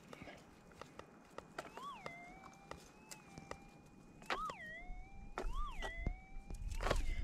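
A metal detector's target signal comes through headphones held up to the camera while nugget hunting: a thin, faint electronic tone that holds steady and then swoops up and down in repeated warbles, with clicks and rustling handling noise around it.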